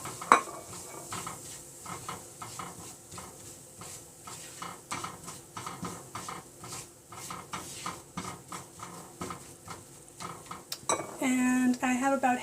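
Spices go into a hot pan for a vegan peas, potato and cauliflower curry and are stirred, giving a steady close sizzle with frequent scraping and clinking of the spoon against the pan, and a louder burst near the end.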